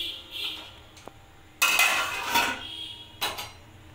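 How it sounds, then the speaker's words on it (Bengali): Chana dal being stirred in a pot, then covered: a quiet lull with a small tap, then a burst of metallic scraping and clinking from a utensil against the pot, and a final clank as the lid goes on. "এবার আমি এটাকে ভালো করে নাড়িয়ে নেব। নাড়িয়ে আমি এটাকে ঢেকে দেব।"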